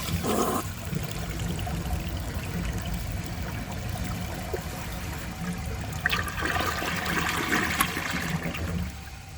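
A 1981 Kilgore Apex toilet flushes with a grocery bag in the bowl, a steady rushing swirl of water close by that runs throughout, swelling slightly near the end before easing off.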